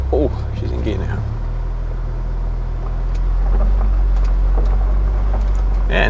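A BMW E92 335i with an N54 engine and a faulty differential after an axle swap drives forward, engine droning low and steady as it gathers speed, with someone talking over it at the start.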